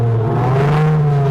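A car engine sound simulator imitating a V12 revs in a steady, loud drone with a strong low hum and layered harmonics, swelling slightly mid-way and holding without any talk.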